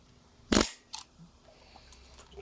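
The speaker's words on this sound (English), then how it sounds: "the leaf shutter closes, the mirror pops up, the leaf shutter fires, the mirror comes back down, and then the shutter opens again" A Topcon Unirex 35mm SLR with a leaf shutter fires close up: one sharp loud mechanical clack as the shutter and mirror cycle, followed by a smaller click and faint trailing mechanism ticks.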